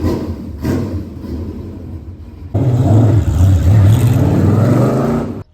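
A Renault Clio rental car's engine hums quietly at first, then swells into a louder, steady near rumble for several seconds before cutting off abruptly.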